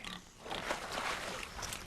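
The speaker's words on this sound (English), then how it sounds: "It's the pig." A pig grunts and snorts in a rough, close series of low oinks, with no talking.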